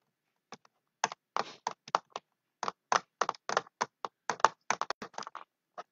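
Computer keyboard typing up close, a quick irregular run of crisp key clicks in short bursts with brief pauses, no voices.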